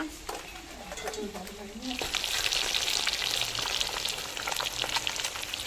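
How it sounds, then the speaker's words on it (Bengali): Fish frying in hot oil, sizzling loudly, rising sharply partway through and holding steady, with a voice briefly heard at the start. "আমি এক এক করে সব মাছগুলো ভেজে নিয়েছিলাম"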